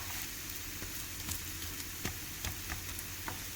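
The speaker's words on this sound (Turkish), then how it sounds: "Şimdi arkadaşlar diğer tarafını kızartacağız." Steady, soft sizzling of kadayif frying in a pan on a stovetop over medium heat, with occasional small pops and crackles throughout.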